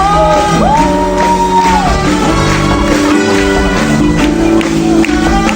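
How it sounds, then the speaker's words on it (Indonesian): A church congregation clapping and cheering at an anniversary service performance, loud shouts and whoops rising over sustained music and singing for several seconds. "Tepuk tangan semua."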